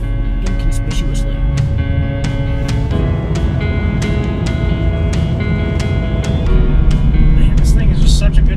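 A 2012 Mustang GT cruises down an open highway. Loud, steady low engine and road rumble fill the cabin throughout while someone talks over it.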